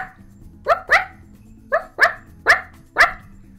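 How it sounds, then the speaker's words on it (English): Dog barks in a Roblox roleplay game, six sharp, evenly spaced woofs, with two close pairs followed by single barks, loud and clear over a faint low background hum. "Like, I can hear the barking."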